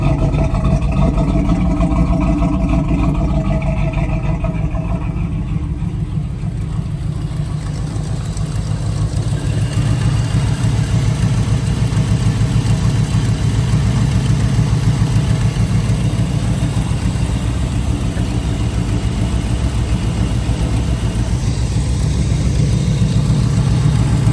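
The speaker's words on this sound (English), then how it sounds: "real nice sounding exhaust." A 1984 Chevrolet Camaro Z28 engine idles steadily for a long stretch, its exhaust giving a low, even rumble close to the listener, with no voices.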